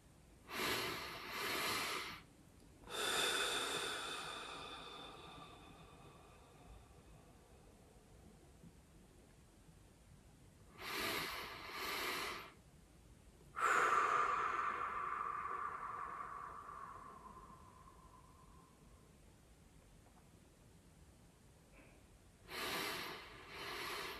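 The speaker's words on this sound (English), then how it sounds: "Now let's do a double inhale." A person performs a double-inhale breathing exercise: quick paired sniffing inhales followed by long, slow, fading exhales, repeated several times with quiet pauses between, soft and close with no talking.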